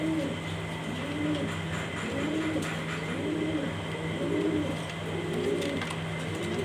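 Close, rhythmic pigeon coos repeat in a steady cycle of soft, rolling calls, with a low hum underneath.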